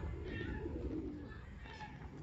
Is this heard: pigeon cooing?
yes